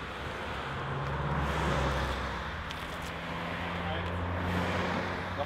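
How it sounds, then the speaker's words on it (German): Cars pass by on a road in a steady wash of traffic noise, with broad rushing swells and low engine tones rising and fading, fairly close and continuous. "Jetzt kommen die Autos."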